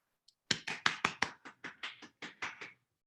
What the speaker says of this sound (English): Wanted to make sure you got your applause.